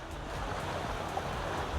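Ocean surf in the Trailmakers building game, with a vehicle just back in the sea: a steady, broad rushing wash of water and wind, fairly close and constant for the whole moment, with no voices over it.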